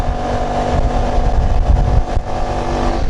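A Suzuki Address 125 scooter climbs a hill under throttle at around 50–60 km/h, its engine droning loud and steady with heavy wind rumble on the microphone throughout.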